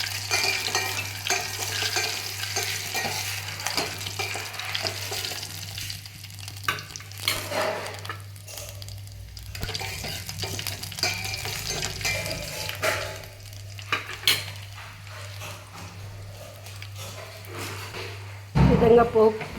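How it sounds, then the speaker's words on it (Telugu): Dried red chillies and curry leaves fry in hot oil as a tempering, a steady crackling sizzle with occasional stirring clinks, running continuously under a low hum. "ఒక 2 ఎండుమిర్చి, కొద్దిగా కరివేపాకు వేసి పోపుని బాగా వేగనివ్వాలి"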